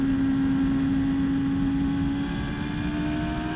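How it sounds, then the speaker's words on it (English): Radical SR3 race car engine held at full throttle on a track day at The Bend, a loud steady drone with a sustained tonal whine, close and continuous throughout. "Full throttle now."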